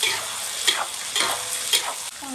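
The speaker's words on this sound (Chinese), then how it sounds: "现在准备炒这个猪肝，猪肝多放点菜油。" Pork liver is stir-fried in plenty of rapeseed oil, with a loud, close sizzle and rhythmic spatula strokes sweeping through the wok about every half second.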